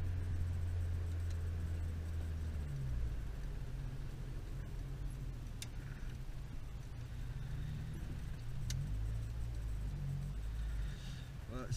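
A VW Golf 3 GTi 16v turning around on a road before a climb, its engine a steady low rumble throughout with a faint intermittent whine.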